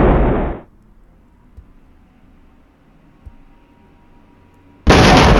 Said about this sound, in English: We've also got some more of our artillery coming in.